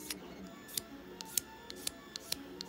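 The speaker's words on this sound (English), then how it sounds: "Just using scissors." Scissors snip paper for 3D paper flowers, cutting small ridges: a series of crisp, short clicks at irregular intervals, about a dozen in quick succession, close and quiet over faint room hiss.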